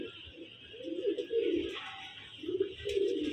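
Soft, low cooing of a white female pigeon with a black beak, in two repeated phrases, close by, over a faint background hiss.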